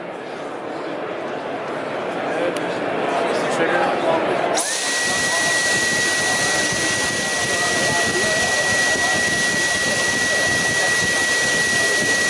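A Dyson V10 cordless vacuum draws smoke from a cube during a trade-show demo. Busy room noise gives way midway to a loud, steady motor whine that continues to the end.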